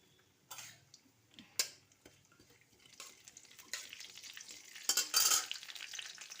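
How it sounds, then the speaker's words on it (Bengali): Cumin seeds sizzle in hot oil for tempering in a home kitchen, a faint crackle with light ticks that swells louder toward the end, no voices. "প্রথমে আমি একটু জিরে ফোড়ন দেব"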